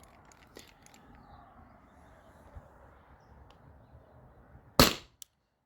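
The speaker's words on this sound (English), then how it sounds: "So the marker's charged. I'm gonna start firing." Byrna SD launcher firing a CO2-powered shot through a chronograph, one sharp loud crack near the end after a quiet stretch, with faint background noise and a small click right after.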